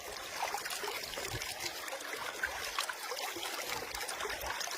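Fresh water trickling down from the forest, a continuous soft, bubbling flow close by, steady and fairly quiet with no voices.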